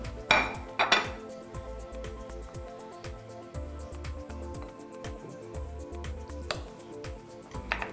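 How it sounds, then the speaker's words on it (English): A knife cuts through crisp, freshly boiled green asparagus spears, giving a few sharp clacks on a board near the start and later, over a steady background hum and clatter of kitchen dishes. "I'm going to cut these in half because they're quite long"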